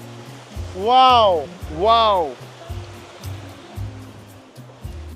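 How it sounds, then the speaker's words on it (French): A small waterfall in the Colombian jungle gives a steady, soft rush of water running throughout, beneath a man's loud drawn-out exclamations of amazement. "Tu l'entends la petite cascade?"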